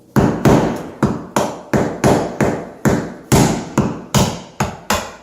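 A sharp scraper driven under a peel-and-stick floor tile, with about a dozen loud, evenly spaced hard knocks close by and no one talking.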